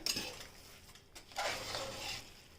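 A utensil mashes cooked rice, moong dal and tuvar dal in a pot, making soft, close scraping and squelching sounds in uneven bursts at low volume.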